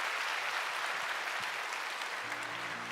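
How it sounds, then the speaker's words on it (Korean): A church congregation claps in welcome after a baptism during Sunday worship, a dense, even burst of applause filling the hall, with a faint sustained tone entering near the end. "우리 격려하는 마음으로 인사하실 때 박수로 축복해 주시기"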